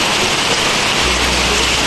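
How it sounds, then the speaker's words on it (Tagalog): Heavy typhoon rain from Typhoon Goring pours down steadily beside a flooded backyard, a dense, unbroken roar of water close by. "At wala pa rin tigil tong ulan guys."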